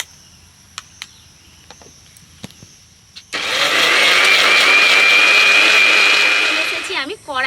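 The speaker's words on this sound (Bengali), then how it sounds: "এবার আমি এই সব কিছুকে আরও একবার মিহি পেস্ট করে নেব" An electric grinder whirs loudly and steadily as onion and other hair-oil ingredients are ground into a fine paste, starting abruptly after a few quiet clicks and handling sounds, then winding down at the end.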